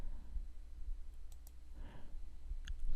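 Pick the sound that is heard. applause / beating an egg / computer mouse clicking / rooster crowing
computer mouse clicking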